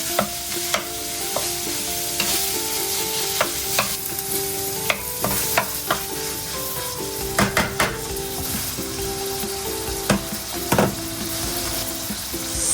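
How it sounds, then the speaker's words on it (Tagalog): Pork added to a pan for spaghetti sauce fries with a steady close sizzle while a utensil stirs and scrapes against the pan in repeated sharp knocks, with no talking. "Sa tingin ko, ilalagay ko na rin itong pork."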